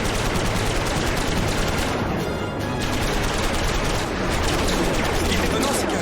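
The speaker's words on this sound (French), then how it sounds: "Approche-toi plus près et continue à tirer." Sustained rapid gunfire from a fast aircraft in an animated series, a loud dense burst that continues almost without pause, dipping briefly midway before resuming at full force.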